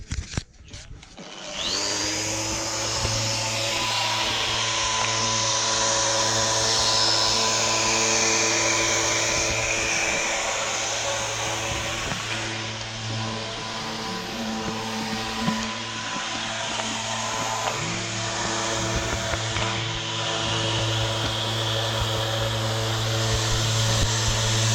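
Power sander running on the stripped wooden swim platform of a boat in a boatyard: a loud, continuous whirring drone with a steady low hum, close and unbroken for the whole stretch.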